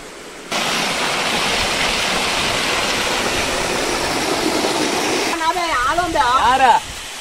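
A steady, roaring rush of water falling at Beeman Falls fills the scene, with voices chattering briefly near the end.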